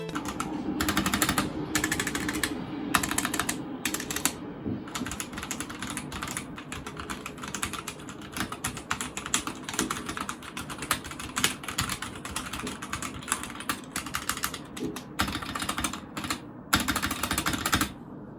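Continuous typing on a Drop ENTR entry-level mechanical keyboard with Gateron Yellow switches, fast close clacking keystrokes with occasional pauses over about eighteen seconds.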